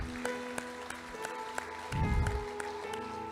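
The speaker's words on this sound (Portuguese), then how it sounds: "Não vai aplaudir a Deus, não?" A church congregation claps during a sermon, light scattered applause with a brief rumble of movement, fairly quiet and steady.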